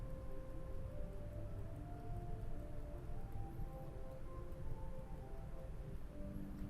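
A soft, sustained flauto dolce flute stop on a large 121-rank pipe organ holds steady, mellow notes that shift slowly, played alone with no voices.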